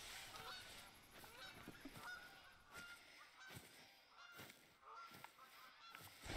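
Goose honking in TheHunter: Call of the Wild, a hunting game set out in the wild, with repeated loud honks in an irregular rhythm over steady outdoor ambience.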